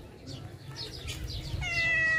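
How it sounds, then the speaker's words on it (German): A tomcat meowing at a village in Egypt, a few soft rising mews ending in one longer, clearer meow, close by with people talking over it. "Sehr hübscher Kater."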